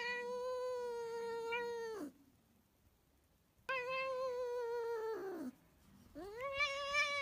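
A cat gives long, drawn-out meows and yowls, loud and close, in three sustained wailing calls separated by short quiet gaps.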